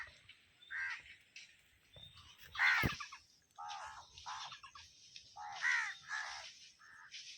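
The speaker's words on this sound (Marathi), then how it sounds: "कावळे" Several crows caw in short, harsh bursts, some nearby and loud, others fainter, calling back and forth with brief gaps between.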